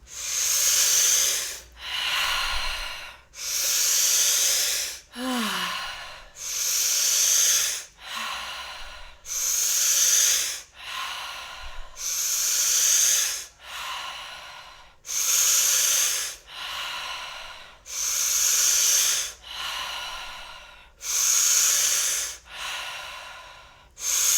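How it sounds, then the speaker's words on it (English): Slow, rhythmic breathwork: long audible breaths drawn in and pushed out through the mouth, about a dozen cycles with short gaps between, close and breathy, with no talking. "Okay, so breathing in through the mouth."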